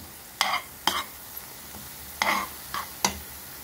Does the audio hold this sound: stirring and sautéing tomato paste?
yes